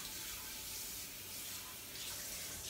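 A water tap runs steadily, filling a container for homemade body wash, a continuous close rushing splash with no talking.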